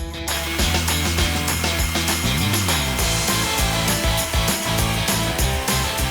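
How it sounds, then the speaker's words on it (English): A loud, continuous chainsaw grinds through wooden posts up close, its motor pitch shifting as it bites and eases through the cut. "I'm going to use the chainsaw to do it"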